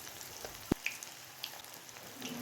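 Baby corn fritters deep fry in hot oil, a quiet crackle with a few sharp pops and sizzles, no voices.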